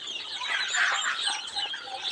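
A silkie hen clucks and murmurs softly and continuously close by, a busy, grainy chatter without pauses.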